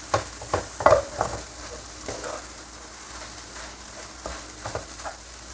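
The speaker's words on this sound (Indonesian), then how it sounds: "Diaduk sampai merata." Fried rice made with sticky Taiwanese rice is stirred and fried in a pan, with a soft sizzle running underneath and clattering scrapes of the utensil that come in irregular bursts, loudest near the start, without talking.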